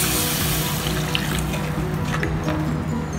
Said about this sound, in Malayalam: നമുക്കിനി ഇതിലേക്ക് ഒരു 1/2 കപ്പ് വെള്ളം ഒഴിച്ചു കൊടുക്കാം